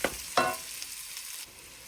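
Carrots fry in a pan alongside potatoes with a soft steady sizzle, and two quick scraping stirs land near the start before the sound settles into a quieter hiss.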